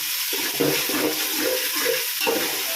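Biryani masala stirred in a large pot, a steady sizzle of frying with repeated scraping strokes of a spoon against the metal, close and moderately loud, with no talking.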